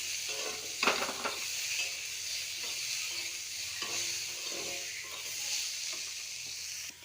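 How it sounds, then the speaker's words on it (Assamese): Cashews and raisins sizzle steadily in hot oil in a pan, with occasional scrapes and stirring clatter from a spoon, no talking. "ইয়াতে কাজু আৰু কিচমিচখিনি ভজা খাওক"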